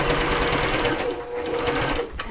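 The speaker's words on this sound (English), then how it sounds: "I'm going to sew to the end of my handle, and then I'm going to back stitch." Sewing machine stitching along to the end of a fabric handle and then back-stitching, a close, steady mechanical whir with rapid needle chatter that pauses briefly near the end.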